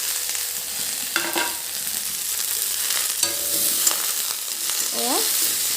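Dried fish fry being stir-fried in a pan with finely chopped onion, tomato, ginger and garlic gives a steady close sizzle with scraping stirs and a few clinks of the utensil, with no talking.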